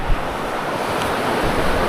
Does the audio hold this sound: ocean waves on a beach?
yes